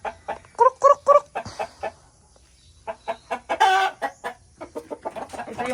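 White leghorn chickens cluck nearby in short repeated bursts, with one longer squawk partway through and no talking.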